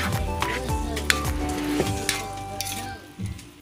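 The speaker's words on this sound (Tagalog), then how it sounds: "At haluin po natin." Pork and ampalaya (bitter melon) sizzle in a pan while a utensil stirs them, a close, steady frying hiss broken by repeated scrapes and clinks against the pan.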